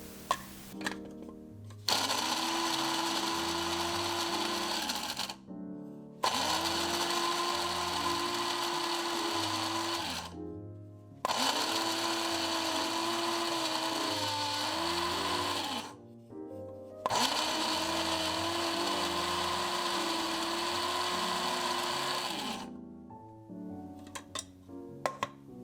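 Small electric coffee grinder grinding walnuts in four long whirring bursts with short pauses between, a loud motor whine that dips and shifts in pitch as the nuts break up.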